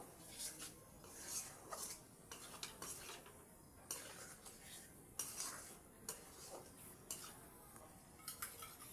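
Spicy masala for a stingray curry stirred and fried in a pan, with repeated metal spoon scrapes and clinks against the pan over a soft sizzle, fairly quiet and without voices.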